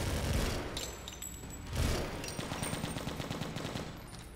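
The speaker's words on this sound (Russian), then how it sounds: "Не жалеем пулемет, он еще вернется." Machine gun fire from the zombie shooter game Left to Survive rattles in sustained rapid bursts with heavy low booms, fairly quiet overall and with no speech over it.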